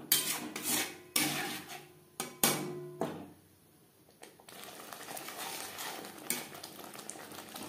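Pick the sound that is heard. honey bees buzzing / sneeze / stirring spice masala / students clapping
stirring spice masala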